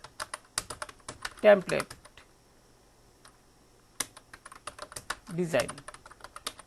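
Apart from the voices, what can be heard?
typing on a computer keyboard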